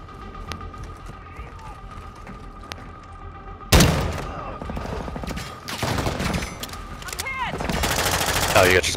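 Video game firefight with loud bursts of automatic gunfire and booming shots starting abruptly and continuing in dense volleys near and far, with game voices heard over the din.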